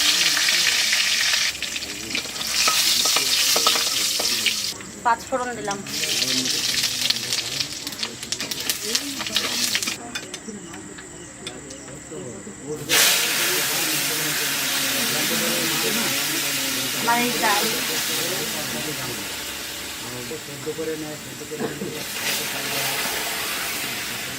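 Loud, steady sizzling of chillies frying in hot oil fills the whole stretch, with stirring scrapes and occasional speech mixed in close by.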